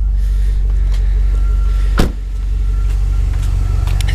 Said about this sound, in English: I'll pop the hood